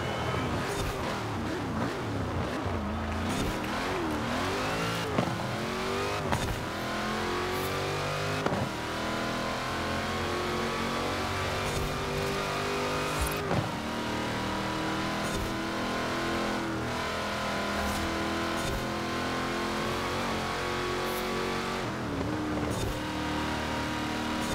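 A retro supercar races in Forza Horizon 4 on a custom track, its engine roaring continuously as it climbs through rising revs, drops at sharp gear shifts and pulls again, loud and close throughout.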